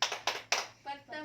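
Three sharp group hand claps in quick succession open the 'tepuk P2K2' rhythmic clap, followed by people beginning to chant.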